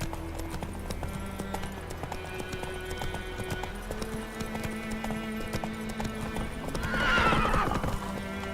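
Roach, a horse in The Witcher 3, gallops with steady rhythmic hoofbeats over game ambience, and a loud whinny comes near the end.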